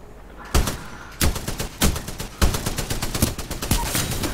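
Heavy machine gun fire in Titanfall 2, loud close bursts starting around half a second in, then repeated short volleys and sustained rattling over steady game noise.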